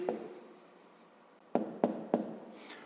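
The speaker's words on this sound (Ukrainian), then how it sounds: "Так, записуємо відповідь." Pen or pencil writing an answer by hand on paper during a fifth-grade geometry exercise on triangle perimeter, a scratchy stretch of strokes followed by three short sharp taps or marks, close and quiet with no talk.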